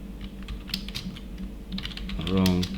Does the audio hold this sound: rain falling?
no